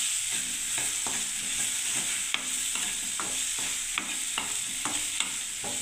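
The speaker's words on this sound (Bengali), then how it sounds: "আগে ভাজিনি তো এটা, এবার এখানে ভেজে নিচ্ছি" Eggplant frying in a pan, a steady close sizzle with a spatula scraping and stirring in regular strokes about every half second, no talking.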